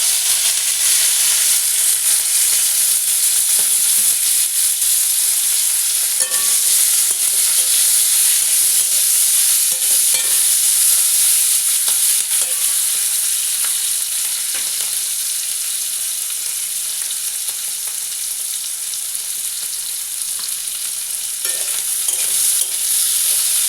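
Tomato and capsicum hit hot oil tempered with cumin, bay leaf and dried chilli, giving a loud, continuous sizzle and hiss from a close pan, with faint scrapes of stirring now and then.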